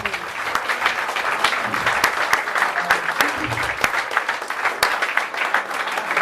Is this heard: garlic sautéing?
no